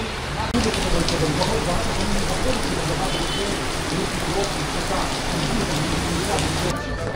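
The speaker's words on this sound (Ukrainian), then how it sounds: "Дощик трішечки стих, але все рівно ще покрапає." Steady rain patters densely on a surface in Da Nang, Vietnam, before a fireworks show, a continuous hiss that holds without pause for several seconds.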